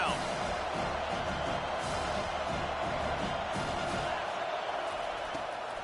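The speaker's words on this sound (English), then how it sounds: "Decibels rising as the crowd gets behind this defense on third down." A football stadium crowd at a Penn State game roars steadily behind the defense on third down, a dense, sustained wall of cheering with no break.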